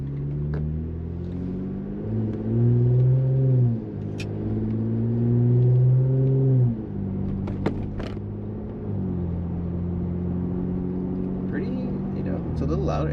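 A 2-door Jeep JL fitted with an aFe Rock Basher 3-inch 409 stainless cat-back exhaust drives along, its deep exhaust drone swelling and easing in steady waves before settling into a lower, even rumble.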